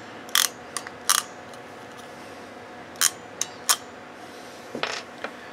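An iWiss micro connector ratcheting crimping tool clicks through a test, with about eight sharp ratchet clacks in short, irregular bursts over a quiet background.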